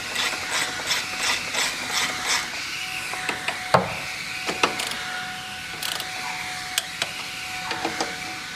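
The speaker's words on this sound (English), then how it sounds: "We're going to tighten down the strut tower brace bolts first." Ratchet wrench clicking in quick repeated bursts while tightening the strut tower brace bolts on a BMW E46 M3, with sharp metallic clicks and pauses between strokes, close and fairly loud.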